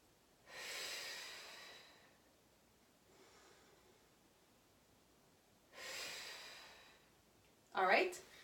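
Slow breaths in and out during a Romanian deadlift, close and fairly soft: two long exhales and a fainter breath between them, then a sharp, brief gasp or snort at the end.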